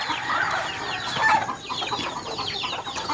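Chickens clucking in the dark before dawn ahead of feeding, a flock of busy overlapping clucks and short calls close by, rising and falling steadily with no talking.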